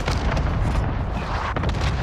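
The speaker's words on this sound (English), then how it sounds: "Allied cluster strike arriving." Rapid cluster strike explosions in the video game Warzone, a dense continuous roll of booming blasts with deep low rumble and crackling bursts lasting the full two seconds, loud and close.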